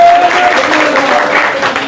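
A crowd at a welcoming gathering bursts into loud, continuous applause, thick and close, with a faint tonal hum threading through the clapping.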